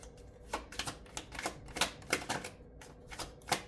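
Tarot cards are shuffled and drawn, giving a quiet, close run of quick papery flicks and taps in an uneven rhythm, with short pauses between bursts.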